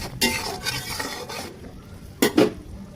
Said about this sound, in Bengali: মশলা দেওয়া হয়ে গেছে ভালোভাবে মিশিয়ে দিতে হবে